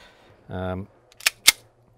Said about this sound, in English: if you hear alternative bangs, it's not an accidental discharge, it's other people shooting